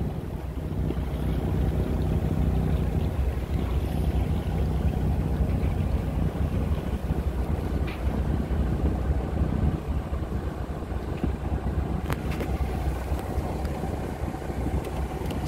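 Ferry traffic passing on a broad river lined with terminals, heard as a continuous low rumbling engine and water wash mixed with wind buffeting, steady and fairly loud with no talk.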